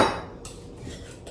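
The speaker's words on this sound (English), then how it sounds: "we're going to go ahead and place this in the 8x8 baking dish" Metal and glass clatter as brownie batter for low-fat blueberry brownies goes into an 8x8 baking dish, a sharp knock at the start followed by a few softer clinks and scrapes, close and without speech.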